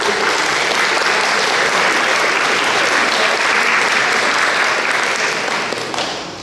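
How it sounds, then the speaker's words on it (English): A hall audience claps steadily for a community choir, a dense, loud, sustained round of applause that fades slightly toward the end. "Shall we give them a round of applause?"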